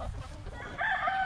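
Free-range meat chickens cluck low and close, then a rooster breaks in with a loud, bright crow that carries to the end, with no talk over it.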